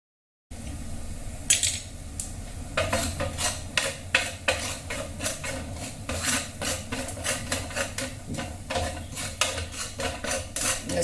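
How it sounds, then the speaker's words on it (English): Idli tikkas tossed and roasted in a pan on low heat with jeera, pepper and idli chilli powder, a spoon scraping and clinking against the metal in quick repeated strokes after a brief silent start. "Just roast them on low heat for 30 seconds."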